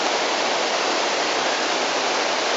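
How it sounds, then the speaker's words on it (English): A waterfall near Pucara, Aguas Calientes, roars steadily as a dense, unbroken rush of falling water, close and loud with no voices. "Oh! Listen to me. There's another waterfall there"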